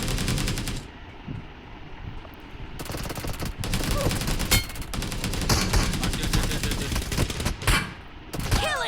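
Shotgun blasts and rapid gunfire from the battle game BGMI in team deathmatch, loud repeated shots in bursts with brief pauses throughout, no talk.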